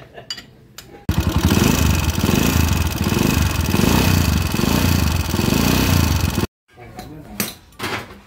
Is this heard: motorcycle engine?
yes